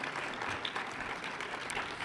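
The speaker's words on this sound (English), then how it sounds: "Give them a round of applause" Audience at a university State of the University address clapping for a team asked to stand, a brief, steady wash of applause at moderate distance with no voices.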